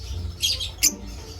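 A parblue forpus parrotlet in an aviary gives two short, sharp squawks about half a second apart, fairly close and otherwise quiet.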